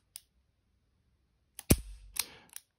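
Ruger SP101 Wiley Clapp 3-inch revolver in double action, giving a few sharp close metallic clicks: one brief snap, then a louder crisp click with a short ringing tail and two more quick clicks.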